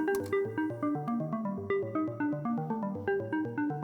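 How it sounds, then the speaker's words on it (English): A DROID sequencer drives a synthesizer arpeggio in butterfly mode, alternating lowest and highest notes inward, in a steady bright rhythm of plucky notes that repeats cleanly and alone without voices. "With the butterfly, you change the mode to the following thing: play the lowest note, then the highest note, then the second lowest, the second highest"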